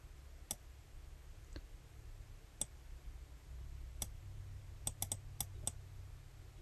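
Sharp, isolated mouse clicks at a computer while working in sewing embroidery design software, coming singly and then in a quick cluster of several, close and quiet over a faint steady room hum, with no talking.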